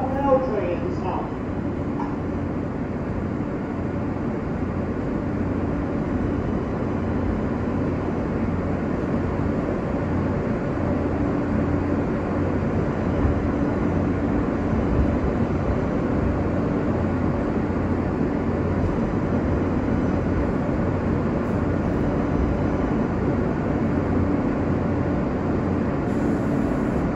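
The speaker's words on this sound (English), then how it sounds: "This is the last stop of the L train at this time." R143 subway train on the L line of the BMT Canarsie Line running between stations, a loud, steady rumbling roar with constant wheel and motor noise throughout, no pauses.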